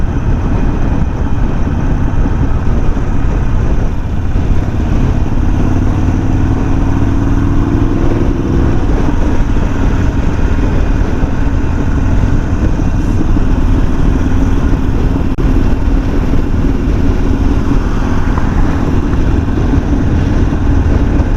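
Harley-Davidson Sportster motorcycles ride in a group across English moorland, their engines a loud, continuous rumbling drone with shifting revs and constant wind-roar, heard from on the bike.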